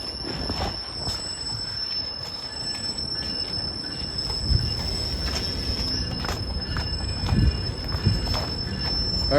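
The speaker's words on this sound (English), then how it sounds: "that's not a pleasant sound. That never-ending screech." A long, high-pitched screech of train wheels on rails drones steadily over the low rumble of a moving train.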